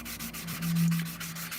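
Sandpaper rubs steadily across the plastic surface of an Airfix Concorde scale model kit, a close, continuous scratchy hiss with faint rhythmic back-and-forth strokes and no voices.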